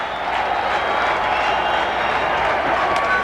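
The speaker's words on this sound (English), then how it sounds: "Boy, the crowd's starting to buzz, aren't they?" A baseball stadium crowd at the 1988 ALCS Game 4 buzzes with a steady, dense roar of many voices, filling the whole stretch without a break.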